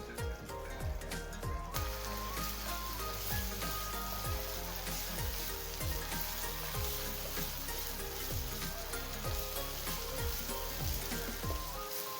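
Masala spice paste frying in oil in a pan for a hilsa roe curry, a dense, steady sizzle with crackling pops close up and a few stirring scrapes, continuing throughout without talk.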